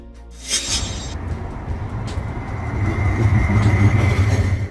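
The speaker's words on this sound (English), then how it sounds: "A type of public transportation vehicle that runs on tracks, typically in urban areas, and carries passengers along a fixed route." A tram rolls along its tracks with a steady low rumble that builds and grows louder, with a brief higher screech near the start and no voices.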